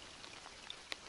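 Rain begins falling outdoors by the water, a faint, even patter with a few sharper individual drops ticking through the hiss.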